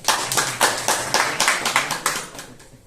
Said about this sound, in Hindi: फिर अपने लिए ताली बजाओ